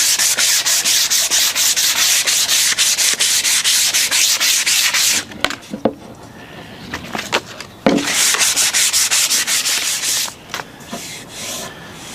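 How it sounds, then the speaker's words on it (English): Hand sanding smooths the finish on a vintage axe, rake or sledge hammer handle. Steady, close rubbing strokes run nearly continuously for about five seconds, then come in shorter intermittent bursts with pauses, then resume steadily. "give it a light sand, although it's a pretty good finish"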